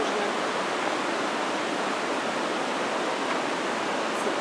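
Waterfall at Deep Creek thundering in a steady, dense roar of falling water, loud and continuous with no voices over it.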